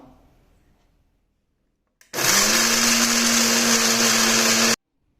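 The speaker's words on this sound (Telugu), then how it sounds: "వీటిని ఇప్పుడు మనం మిక్సీ పట్టుకుందాం" Quiet room, then a mixer grinder grinding red chillies and garlic abruptly starts, whirring loud and steady with a high motor whine for a couple of seconds before cutting off.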